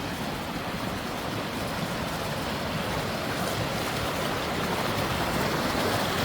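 Water in a river flows steadily with a dense, even rushing wash, close and constant throughout, with no voices over it.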